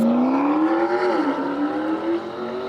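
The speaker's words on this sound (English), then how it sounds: "Okay, that sounds like a supercar." A Chevrolet Corvette supercar engine howls steadily at high speed, its tone rising and dipping slightly as it pulls hard, loud and close with no talk over it.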